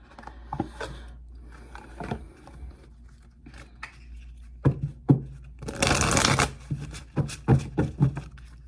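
A deck of cards being shuffled at close range, with scattered taps and handling clicks building to a dense riffling burst followed by several shorter shuffles and snaps, no talk.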